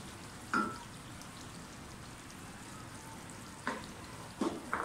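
Peas with tomato and yogurt frying in a pot for aloo matar pulao, a soft steady sizzle with a few sharp spoon knocks against the pan.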